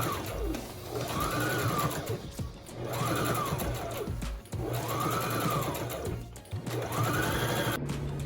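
Sewing machine stitching through layered fabric and foam for a lunch bag, running in four steady bursts with brief pauses between, close and loud with no talk.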